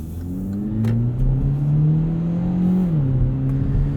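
A 2017 Hyundai Elantra Sport with a 7-speed dual-clutch transmission revs in sport mode, its engine drone climbing steadily and then dipping at a shift before holding again, heard close from inside the cabin.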